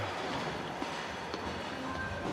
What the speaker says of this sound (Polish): Ta kolejka chyba non stop jeździ w tej wewte, nie?